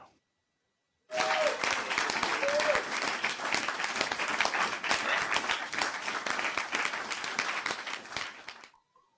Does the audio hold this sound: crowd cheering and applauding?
yes